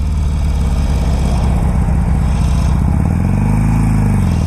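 A 2006 Harley Davidson 883 Sportster rides with a loud, close, continuous engine drone and rumble, the pitch rising briefly near the end.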